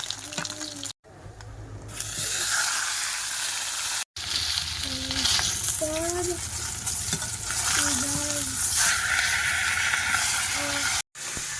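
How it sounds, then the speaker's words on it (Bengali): Large katla fish frying in hot oil on a wood-fired clay stove in the Sundarbans, a steady sizzling hiss broken by brief cuts, with tonal voice-like sounds scattered through. "মাছ ভাজা কিন্তু হয়ে গেছে খুব সুন্দর কিন্তু লাল লাল করে ভেজে নিয়েছি"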